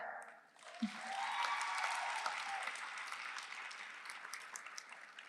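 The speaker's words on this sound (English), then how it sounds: "I guess I'll say them one at a time so you can applaud." A commencement audience applauds an award winner, steady sustained clapping from a large crowd that swells after a brief pause and holds loud and even throughout.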